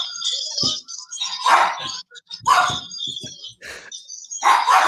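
Several dogs at home bark excitedly in repeated loud bursts with yips between them, greeting someone coming in.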